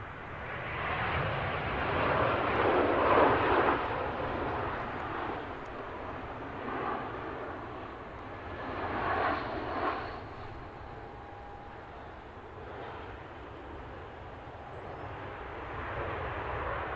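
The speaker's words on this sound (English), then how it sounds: "BA about to touch down." BA airliner touching down at Manchester Airport, a steady broad jet roar heard from a distance, swelling around the touchdown and then holding at a moderate level with no talk.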